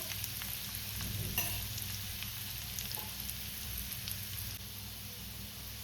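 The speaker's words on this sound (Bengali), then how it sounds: "এটা ভাজা হচ্ছে" Beetroot sizzling and frying in oil in a pan, a steady soft crackle with occasional stirring clinks, fairly quiet and with no talking.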